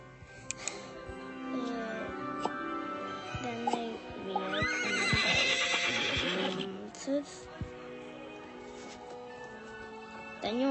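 A horse whinnies in a video game, with several loud, quavering neighs over soft hoofbeats and sparse clicks, while people talk at times.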